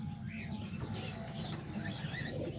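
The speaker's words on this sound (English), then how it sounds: "There's all the pigeons right here." Pigeons in a loft, including new baby pigeons, coo softly at a distance over a steady low rumble and hum of background noise.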